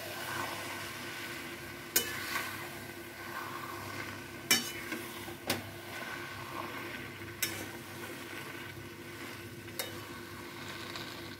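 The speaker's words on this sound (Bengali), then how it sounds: "নারকেল কোড়াটা দিয়ে আমি আরও ভালো করে মিশিয়ে নিলাম।" Taro stems and grated coconut are stirred in a hot pan, with a soft continuous sizzle broken by a few sharp scrapes and clicks of the spoon against the pan.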